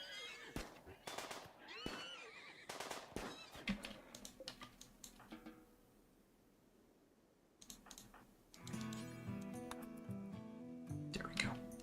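In the RimWorld Odyssey video game, a horse whinnies faintly amid clicking keyboard taps and scattered game effects, while a voice talks over parts of it.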